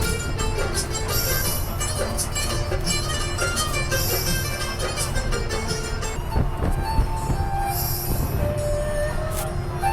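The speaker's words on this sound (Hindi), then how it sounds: "तो ये है मंडपम रेलवे स्टेशन" A train at Mandapam railway station rumbles and screeches, its wheels squealing on the rails amid continuous clattering and metallic noise, with voices faintly mixed in.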